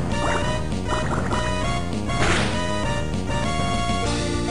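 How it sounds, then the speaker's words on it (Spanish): Water Gun attack in the video game Pokémon Emerald, gurgling, splashing water effects layered over steady chiptune battle music, loud and continuous. "Venga, pistola de agua."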